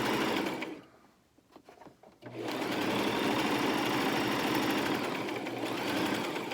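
Sewing machine stitching a Christmas stocking, its motor running loud and close in a steady buzzing whir, briefly dropping to soft clicks and handling noises before resuming a long continuous run.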